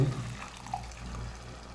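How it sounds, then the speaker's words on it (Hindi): Boiled black-eyed bean cooking water is poured into a pan of fried masala, a brief soft liquid splash and trickle, close and quiet, with no talking. "लोबिया का पानी बीच में डालेंगे"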